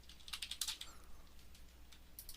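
Keys pressed on a computer keyboard, a short burst of rapid, close clicking taps followed by a pause and a couple of faint later clicks.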